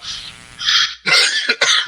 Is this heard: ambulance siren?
no